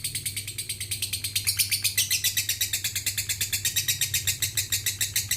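Lovebird singing its long ngekek trill, a rapid, steady stream of sharp chirping pulses that runs continuously and loudly over a low background hum.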